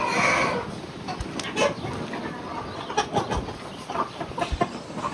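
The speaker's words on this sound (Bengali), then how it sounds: "এইদিকে দেখো সব মুরগি" Chickens at a farm in an American village cluck and squawk in scattered short calls, some close and some farther off, over a faint background hum and light movement noise.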